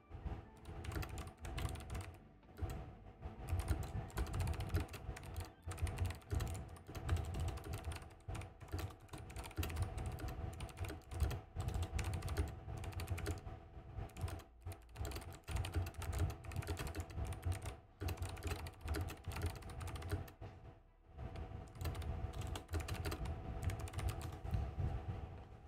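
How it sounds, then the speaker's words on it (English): Rapid, continuous typing on a computer keyboard with dense clusters of keystrokes and a few brief pauses, heard close up with no talking. "I'm just typing something out."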